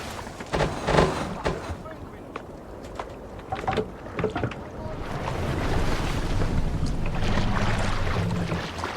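A Viking longship rows through rough sea waves in Assassin's Creed Valhalla, with wind and water splashes, rhythmic surges and a steady rushing swell, while voices speak intermittently over it.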